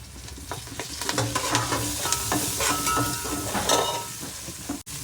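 Green chilies with coriander, mint and curry leaves frying in hot oil for hotel-style chicken mandi, giving a steady close sizzle with scattered crackles and stirring scrapes throughout.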